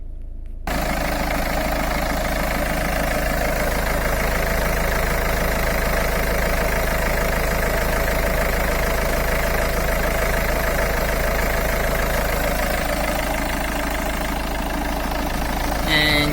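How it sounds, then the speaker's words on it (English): A Citroen C4 Grand Picasso's 1.6 HDI turbo diesel engine idles steadily, heard close up from under the engine bay as a loud, even diesel clatter that holds unchanged and alone throughout. "That is how noisy my diesel engine is."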